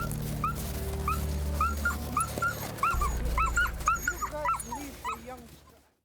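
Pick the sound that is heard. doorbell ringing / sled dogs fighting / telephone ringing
sled dogs fighting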